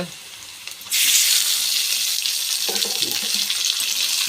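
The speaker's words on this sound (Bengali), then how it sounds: "পেঁয়াজটা হালকা করে লাল হয়ে গিয়েছে, এবার মাংসটা দিয়ে দেবো। মাংস চলে যাচ্ছে" Chicken meat dropped into onions frying in a pan for a Bengali chicken kosha, setting off a sudden loud, sustained hissing sizzle after a quieter start, close and without talk.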